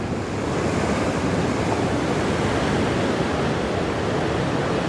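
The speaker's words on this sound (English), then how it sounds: "You'll check the waves are gonna come in just now." Ocean waves break at Margate Pier, a broad, steady roar of surf washing in continuously, loud and close with wind over it.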